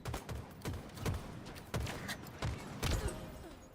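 Gunfire in Halo Infinite pounding against walls, rapid repeated shots in uneven bursts with dull thuds, fairly faint and steady across the stretch.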